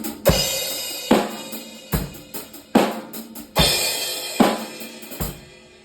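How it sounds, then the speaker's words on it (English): Seven kick drum strokes land together with crashing cymbal hits at a steady, unhurried pace, each giving a punchy low thump and a bright splash that rings and fades before the next. "If you use the kick drum at the same time as hitting your cymbal, it'll sound like this."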